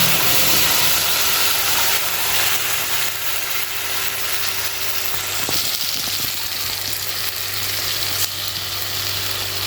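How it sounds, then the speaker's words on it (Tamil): Ground tomato, garlic and dried red chilli chutney hits hot oil tempered with mustard seeds and curry leaves, giving a loud, steady broadband sizzle and hiss that continues throughout, with no talking. "இப்போ நம்ம அரைச்சி வச்சுருந்த சட்னியை கொட்டிக்கலாம்."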